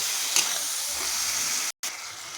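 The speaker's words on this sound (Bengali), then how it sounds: "মশলাটাকে ভেজে নেব।" Spices including dried chilli and coriander powder fry in a pan, a steady bright hiss of sizzling oil with a small pop early on and a brief cut in the sound before it resumes.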